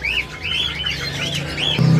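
Caged songbirds at a bird kiosk selling white-rumped shamas chirp and whistle in bright repeated phrases, fairly close and loud, with a low thump near the end.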